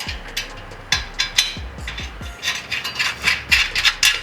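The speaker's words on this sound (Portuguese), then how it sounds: "a gente vai fazer um aperto com a chave, mas deixando uma folga para o movimento dela ainda" A wrench tightens a bolt with washer and nut on the frame of an MS-5000 weight machine station, making a run of close, rhythmic ratcheting clicks and metallic scrapes.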